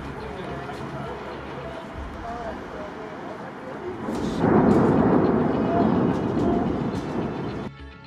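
The demolition of a steel-works blast furnace builds from a distant rumbling into a heavy, roaring collapse that swells loud midway and holds before trailing off, with faint voices underneath.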